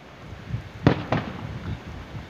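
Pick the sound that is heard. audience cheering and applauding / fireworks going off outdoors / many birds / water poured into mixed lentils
fireworks going off outdoors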